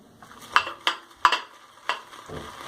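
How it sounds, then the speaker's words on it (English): A shaving brush works soap into a lather in a bowl, giving a series of crisp, close taps and swishes against the bowl at a loose, uneven rhythm; no one speaks. "So hopefully we can get this bowl lathering"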